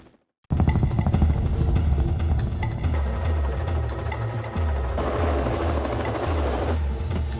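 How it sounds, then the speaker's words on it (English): A helicopter lands on a road near a raging forest fire, its rotor thudding in a loud, steady rhythmic beat with a constant engine whine and no voices. "We had to land the helicopter in the road"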